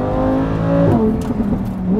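A Lamborghini Huracan Evo engine revs hard while driving, a loud, close, rising roar that drops and shifts pitch midway, with no talking over it.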